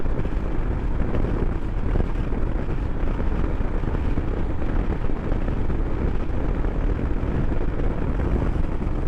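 A 2021 Royal Enfield Himalayan motorcycle cruising at 60 mph in fifth gear around 4,500 rpm on the street, a steady loud roar of engine and heavy wind rush with no pauses.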